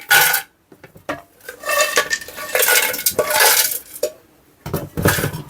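Brick pieces tumble into the jug of an Orpat 1600W commercial mixer grinder, making bursts of hard clattering and rattling that come in several loud pours separated by short pauses.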